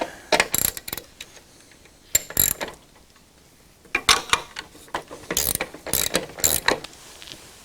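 Wrench ratcheting on bolts at the front of a DR leaf and lawn vacuum trailer during assembly, short bursts of quick metallic clicking separated by pauses, close and fairly quiet.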